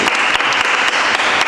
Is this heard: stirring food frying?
no